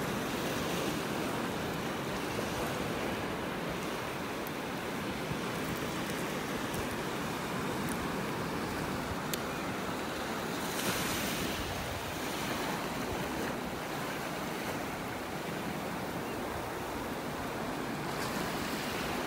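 Ocean waves break and wash steadily onto a beach in North Naples, Florida, a continuous loud surf roar with some wind buffeting, and no voices.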